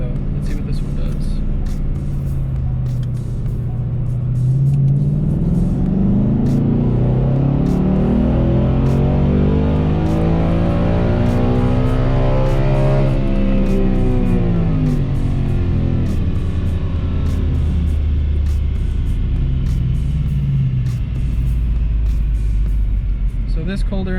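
2018+ Ford Mustang GT V8 fitted with an Injen cold air intake, revving on a dyno through a gear run: a loud, steady engine roar that climbs in pitch, drops back and climbs again, with sharp ticking bursts overhead.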